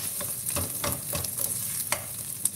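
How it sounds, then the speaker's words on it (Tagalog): Crushed garlic with its skin on fries in hot oil while a utensil stirs it in the pan; steady close sizzling runs under repeated scraping strokes and occasional sharper clinks. "Sunodin natin itong ating bawang na pinitpit ko lang."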